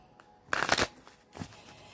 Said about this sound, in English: I had already shuffled them and what have you, but I'll shuffle them again